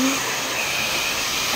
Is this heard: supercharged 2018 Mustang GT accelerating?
no